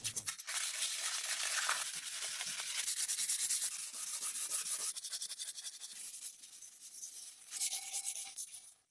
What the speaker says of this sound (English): he uses wet sanding to smooth the surface